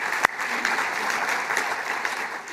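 Audience at an economic forecast event applauds, a steady and moderately loud spread of clapping across the room after one sharp close clap at the start, with no talk.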